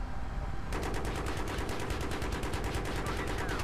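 Automatic gunfire in the video game Battlefield 3, a rapid steady burst of shots over dense game noise, loud and continuous throughout.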